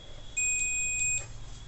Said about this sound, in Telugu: బీప్ సౌండ్ అనేది రన్ అవుతుంది